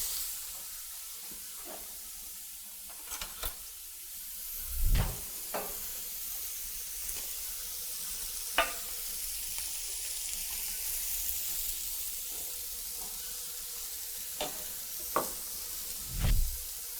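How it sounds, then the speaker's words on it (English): Steak sizzling in hot oil in a pan as it is pressed down, a steady quiet frying hiss broken by a few sharp clatters and low thuds from handling the meat and pan. "Then I put some oil, then I press my steak."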